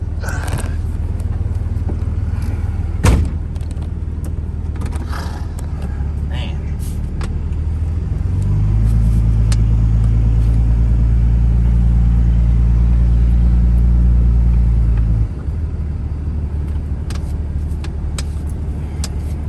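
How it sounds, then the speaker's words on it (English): A 2003 Dodge Ram 2500 Cummins diesel pickup's exhaust rumbles loud and close while driving, swelling into a deeper drone midway before settling back. Occasional clunks are heard. "exhaust sounds good, it's fun, but it's a bit loud."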